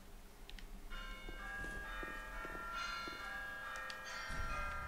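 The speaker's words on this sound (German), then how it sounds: "das sind die Glocken" Church bells ringing in Dark Souls 3, a steady sustained peal with repeated strikes and long ringing overtones, loud and continuous over a faint low background hum.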